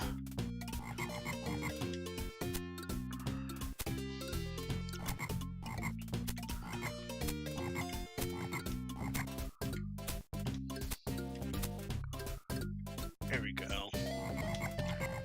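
Frogs croak in a Lion King video game level over busy game music and effects, a steady run of croaks through the clip with a brief spoken comment.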